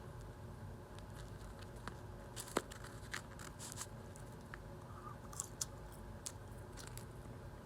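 Soft, close chewing of fries spread with a bit of sauce, quiet mouth sounds and faint crunches over a low steady hum on a flight.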